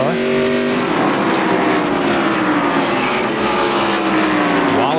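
NASCAR stock cars racing at North Wilkesboro in the 1993 First Union 400, loud roaring V8 engines passing close by with Doppler pitch sweeps, a continuous dense drone of the field, and a commentator talking over it.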